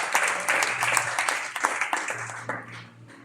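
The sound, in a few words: church congregation applause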